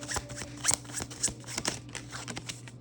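Tarot cards are shuffled close up in a short burst of soft, crisp riffling and flicking that lasts a few seconds, with no voices over it.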